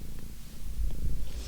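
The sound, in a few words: cat purring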